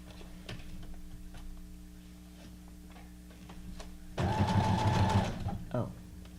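Sewing machine stitching, starting with light ticking taps under soft talk, then a loud, close burst of rapid whirring stitches for about a second, followed by a brief short run.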